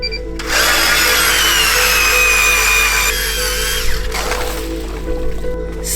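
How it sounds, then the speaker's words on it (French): A power drill used for ice fishing whines loudly and steadily for several seconds, then spins down with a short follow-up burst and rustling. "Cette perceuse-là, c'est probablement le meilleur outil que j'ai pour la pêche sur glace."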